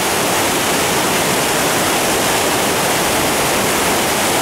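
Creek water rushes loudly and steadily beneath a bridge whose support narrows the channel, a dense continuous roar with no other sounds.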